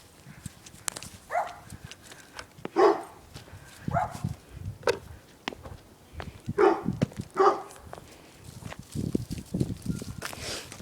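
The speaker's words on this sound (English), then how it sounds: "The Goober Dare is barking" A dog barks several times at irregular intervals, close by, with scuffling and pattering movement around it and no talking.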